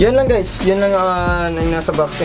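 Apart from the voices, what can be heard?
No everyday noises stand out.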